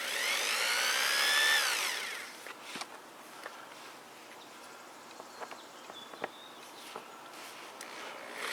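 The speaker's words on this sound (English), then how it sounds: "gonna use a drill to actually drill the screws in" A power drill whines loudly for about two seconds, winding up and down while driving screws into a boat hull, then falls quiet apart from scattered clicks and light taps.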